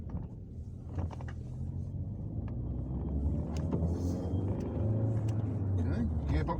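A car that had cranked but would not start, now running after repair and being driven, gives a steady, close engine rumble with some mechanical noise and wind buffeting throughout.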